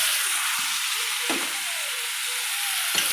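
Tomatoes hit a hot frying pan while a vegetable gravy cooks, giving a steady close sizzle and frying hiss with a few soft stirring knocks and no talk.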